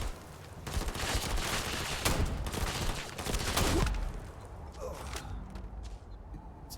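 Video game gunfire from a rifle and handgun crackles in rapid bursts of overlapping shots, loud and dense at first, then thinning into scattered pops and mechanical clicks as the firing dies away.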